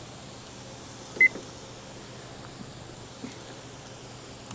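A kitchen timer gives one short, clear electronic beep, close and brief, while ribeyes are grilled outdoors at an RV campsite, with quiet ambient hiss and a couple of faint clicks afterward.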